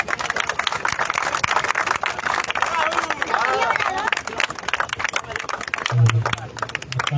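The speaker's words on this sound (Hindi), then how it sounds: "हम खिलाड़ियों से चाहेंगे माननीय प्रधान जी का हार्दिक स्वागत करें, अभिनंदन करें तालियों के साथ" Applause and cheering from a crowd of spectators at a village cricket final match ground, welcoming the village head; dense, continuous clapping and hubbub close by, with a brief low engine-like hum near the end.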